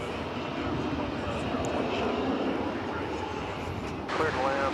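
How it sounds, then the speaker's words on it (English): A passenger jet arriving from Orlando at DFW Airport, a steady broadband engine roar sustained throughout, loud and continuous, with radio chatter faintly mixed in near the end. "Now a flight coming in from Orlando."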